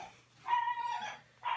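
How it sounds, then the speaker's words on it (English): A dog gives a couple of short, fairly faint barks or yips indoors, with a brief quiet gap between them and no talking over the sound. "my dogs and cats are crazy"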